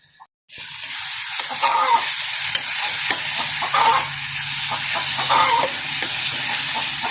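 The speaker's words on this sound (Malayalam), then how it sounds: "അരിഞ്ഞത് ഇതിലേക്ക് ചേർത്ത് ഉള്ളി വഴറ്റിയെടുക്കാം" Sliced onions are dropped into hot coconut oil in a pressure cooker for beef vindaloo and burst into a loud, close sizzle. Stirring and scraping run through the steady frying hiss, with no voices.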